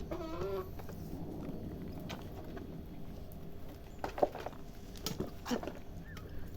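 Portuguese chickens cluck softly at a farm while feeding on leaves, with scattered faint clucks and pecking noises over a steady low background.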